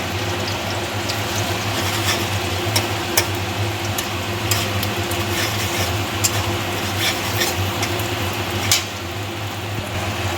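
A beaten egg is stirred into a frying bhujia-style mixture in a pan, giving a steady low sizzle with scattered clicks and scrapes of the spoon throughout, no voices.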